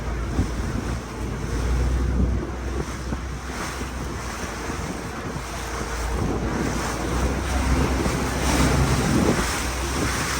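A water taxi runs along a river on the way from Bangkok to Ko Kret, Thailand, with waves splashing and wind buffeting the microphone in a constant rough roar, and no one speaking.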